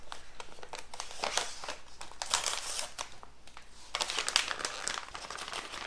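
Plastic sticker bag rustles and crinkles as a hand digs through a 200-piece sticker pack, with steady close crackling and louder bursts throughout and no talking.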